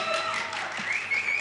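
Audience applause at a music school concert, a short burst of steady clapping with a thin whistle riding over it.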